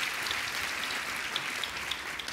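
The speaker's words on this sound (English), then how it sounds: "So I think a round of applause for them and past honorees would be appropriate at this point in time." An audience at an awards presentation claps for honorees, a steady, fairly loud wash of applause with no pauses and no voices.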